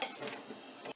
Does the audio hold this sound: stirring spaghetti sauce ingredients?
yes